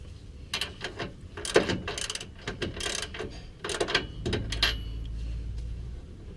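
Bolts being fitted and snugged on the upper control arm of a Mazda B4000 front suspension, with irregular metallic clicks, ratcheting and clunks of tools and hardware, close by and without talk.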